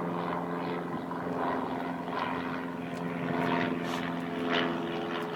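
Small propeller airplane flying low overhead, a steady droning engine hum with a swelling, slightly wavering tone throughout, loud and alone.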